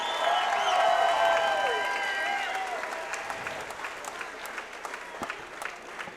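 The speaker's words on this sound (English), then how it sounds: "let's get another round of applause for both of these ladies." A crowd at an MMA event applauds after a women's fight, loud sustained clapping with cheers and whistles at the start, then slowly thinning out while voices carry on underneath.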